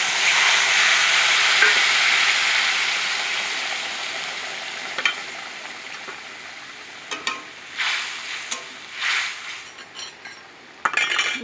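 Tilapia fish frying in a pan for cumin curry gives a loud steady sizzle that fades, followed by clinks and scraping stirs of a utensil against the pan; no talk.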